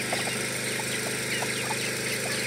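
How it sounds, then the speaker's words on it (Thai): Chickens cluck in short scattered bursts as they come in to feed, with a steady engine-like hum running underneath throughout. "ไก่เพิ่นมากิน"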